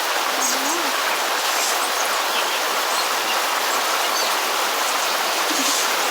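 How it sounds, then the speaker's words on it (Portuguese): Heavy rain falls in an unbroken, loud rushing hiss close by, like water pouring over surfaces. A faint voice surfaces briefly near the start and again near the end beneath the downpour. "Olha a chuva."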